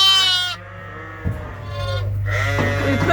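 Sheep and lambs bleat in a barn, loud quavering cries close by, one long call after another with overlapping voices and a low background hum.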